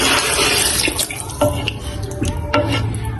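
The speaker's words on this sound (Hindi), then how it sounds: "मैं इसमें डाल दूँगी पानी" Water pours steadily from a tap into a cooking pot while potato tahari rice is prepared, a close, continuous splashing rush with a few brief knocks and no talk.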